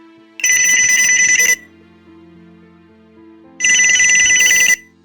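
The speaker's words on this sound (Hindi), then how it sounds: "उसने काइल को फोन किया" A telephone rings in two loud electronic trills about two seconds apart, with a quiet pause between them, in an animated short film.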